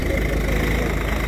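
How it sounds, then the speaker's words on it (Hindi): A Swaraj 742XT tractor in second gear pulls an 8-disc harrow across a field, its engine a steady, close, loud diesel drone throughout with no let-up. "देखो दूसरे गियर में कितनी बढ़िया तरह ट्रैक्टर हैरो को लेके घूम रहा है"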